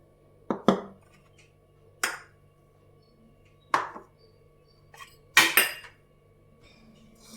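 Knife cutting ingredients into small pieces for a ragi sweet, sharp separate knocks of blade on board at an uneven pace, including a quick double hit, close and clear with quiet pauses between.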